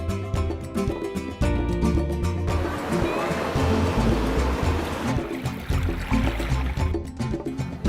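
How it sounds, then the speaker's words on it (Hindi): Ocean waves of a calm sea at North Bay Island, Andaman and Nicobar, rushing and washing in a loud, continuous wall of surf noise, with faint tonal sounds in the first couple of seconds. "शांत समंदर, लहरों की आवाज़"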